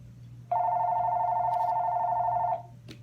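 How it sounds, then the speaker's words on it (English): A telephone bell rings in one steady, loud, two-second electronic trill in a samurai film set in feudal Japan, starting abruptly and cutting off cleanly, with quiet ambience before and after. "Phone call."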